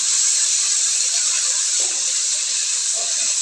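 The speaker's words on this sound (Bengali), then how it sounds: "এখন পেঁয়াজটা দিয়ে দিচ্ছি। পেঁয়াজটা লাল করে ভেজে নিব আগে।" Chopped onion sizzles in hot oil as it fries in a home kitchen, a bright, steady hiss that stays loud and close for the whole moment, with no talk.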